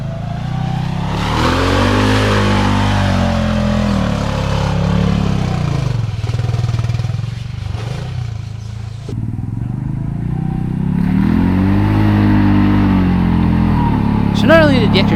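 A Honda Pioneer 500 UTV with a long-travel kit powers through mud in four-wheel drive. Its engine revs up and down in loud, close sweeps, with clattering from the vehicle over a steady drone.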